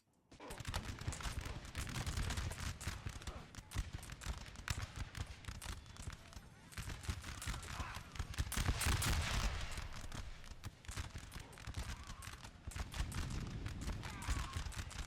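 Musket volleys crackle from a Napoleonic-era battle in a Total War strategy game, a dense, continuous spray of distant gunfire with rolling bursts and no clear pauses across the whole stretch.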